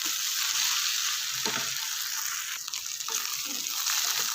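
Moringa curry frying and sizzling in a pan, a steady loud crackle that runs throughout, with brief stirring scrapes partway through.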